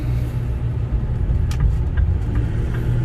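A 2009 Ford F-450 dually truck with 153k miles cruises along, giving off a steady, low engine rumble and road noise from inside the cab, moderately loud and even throughout.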